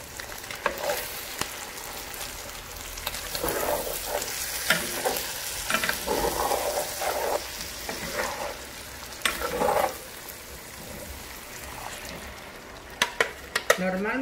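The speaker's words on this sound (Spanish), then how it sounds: "Vamos a proceder a echarle la salsa." Red chile salsa from soaked, well-cooked chiles poured into a hot pan for a tierra caliente aporreado, a loud steady sizzle and frying hiss with stirring scrapes and a few sharp clinks near the end.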